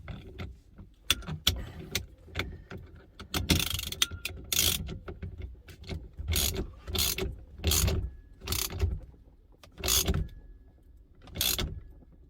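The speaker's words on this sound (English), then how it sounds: "screw that in, give those a few turns" Screws being driven in and turned by hand while fitting a racing steering wheel to a Porsche 924, heard as close, irregular ratcheting clicks and short metallic bursts with pauses between turns.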